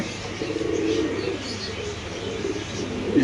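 Fancy pigeons coo softly at a seller's home, a low, rolling murmur with a few faint chirps mixed in throughout.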